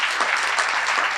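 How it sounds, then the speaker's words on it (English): An audience applauds award honorees at a Citizen of the Year awards ceremony, with dense, steady clapping from a sizeable crowd that fills the whole brief moment at even loudness. "Let's give them a round of applause and say congratulations"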